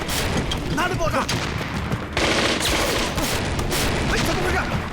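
Dense battle din from a war drama: rolling explosions and crackling gunfire fill the whole stretch, loud and continuous, with a heavier burst near the middle and voices shouting faintly beneath.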